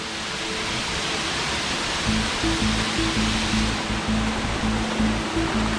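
A waterfall in Canggu, Bali roars as a loud, dense, continuous rush close by, with a faint low tonal hum running beneath it and no voices.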